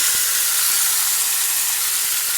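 A loud, steady sizzling hiss fills the whole moment, like water and ginger-garlic paste hitting a hot oil tempering, with a few faint clinks.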